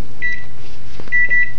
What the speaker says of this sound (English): turn on the microwave, you'll see that power use display go up.